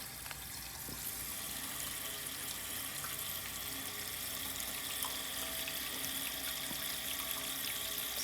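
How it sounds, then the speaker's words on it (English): A 1980 Eljer Emblem toilet tank refills slowly with a steady, continuous hiss and rush of running water, even and fairly quiet from start to finish with no one talking. "This tank fills a little bit on the slower side"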